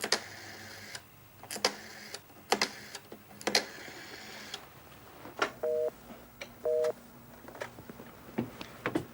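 Telephone dialing tones with two short paired beeps amid scattered clicks and key taps, fairly close and alone, as someone places a call on a 1985 phone.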